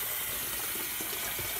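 Steady rushing water pours from a hose into a KUPPET compact twin tub portable mini washing machine, a constant close splashing hiss with no voices.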